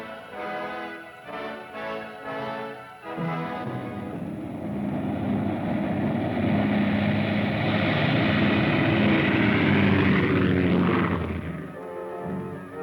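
A propeller aircraft, a hurricane observation plane heading out to meet a storm, drones steadily, its engine hum swelling and shifting in pitch as it passes, loud and continuous with no talking.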